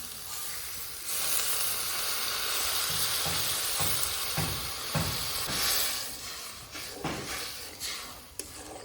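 Water poured into a hot pan of fish curry with young mango and small sarpunti fish sets off a loud, steady sizzle and hiss, with bursts of steam and the odd clink of a spoon against the pan.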